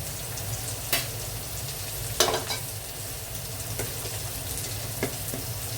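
Clam meat seasoned with pepper powder and Kashmiri chili powder fries in a pan with a steady low sizzle, while a utensil scrapes and stirs through it in a few sharp, irregular strokes.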